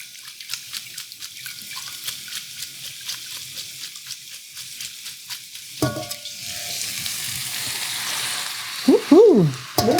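Noodles and vegetables hit a hot pan for Thai drunken noodles: a close, loud sizzle rises midway and holds steady, with scraping stir strokes and a brief clatter near the end.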